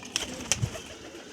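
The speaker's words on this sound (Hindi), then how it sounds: "ये उड़ने वाले कबूतर है।" Flying pigeons kept as pets give a few soft, brief coos and light calls close by in a quiet space, spaced irregularly, with no talking.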